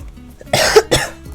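A sick person gives two harsh, close coughs in quick succession, then goes quiet.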